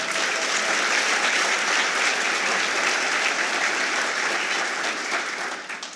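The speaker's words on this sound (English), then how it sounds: "Can we give them another round of applause, please?" A State of the County address audience bursts into loud, dense applause that holds steady for several seconds, then tapers off slightly at the end.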